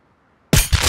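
A single sharp gunshot in a survival video game raid, a sudden loud crack followed by a quick second burst after about half a second of silence.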